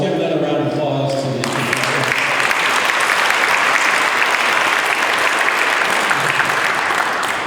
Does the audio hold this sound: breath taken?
no